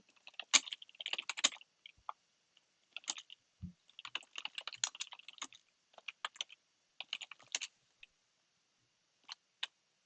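Fingers type in quick bursts on a computer keyboard, with clusters of close, crisp key clicks separated by short pauses and one soft low thump in a quiet room.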